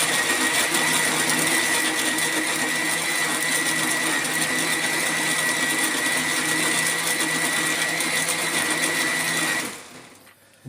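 A blender whirs continuously at high speed while blending almond juice, a loud, steady close-up motor whine that stops abruptly near the end.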